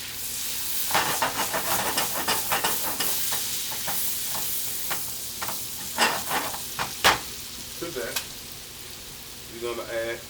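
Garlic sizzling and frying in a pan with a steady hiss, broken by repeated sharp crackling bursts as it is stirred, close and fairly loud, with a brief murmur of voice near the end.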